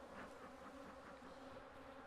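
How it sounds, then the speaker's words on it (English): Honey bees buzzing at an opened hive in an apiary, a faint, continuous hum with a steady tonal drone and soft fluctuating wingbeat texture. "I'm seeing some bees over there now."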